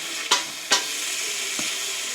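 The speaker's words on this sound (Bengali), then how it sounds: "এভাবে লাড়াচাড়া দিলে পটলের মধ্যে সব মশলাগুলা মিক্স হয়ে যাবে" Pointed gourd (potol) with spices being stirred in hot oil, with a steady close sizzle broken by two sharp spoon scrapes near the start and a softer one later.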